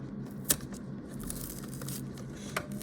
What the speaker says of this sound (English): Let's see if I can get a clean peel.